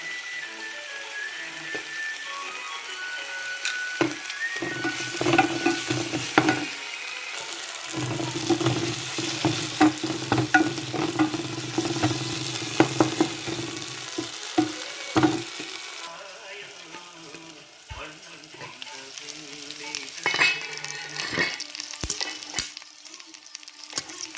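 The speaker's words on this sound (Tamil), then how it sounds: "கொஞ்சம் உப்பும் போடுவேன் அப்போ தான் டக்கண்டு தக்காளி பழம் எல்லாம் வதங்கி வரும்" Tomatoes sautéing with salt in a pan for a squid and potato curry, a busy crackling sizzle punctuated by frequent stirring scrapes and knocks, close and steady throughout.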